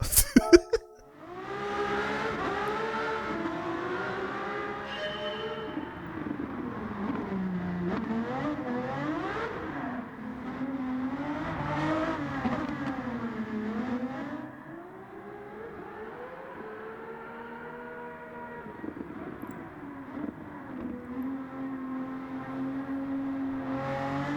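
A V12 car engine with titanium exhaust revs continuously with a high, rasping note, pitch rising and falling in waves as the throttle works, loud and close.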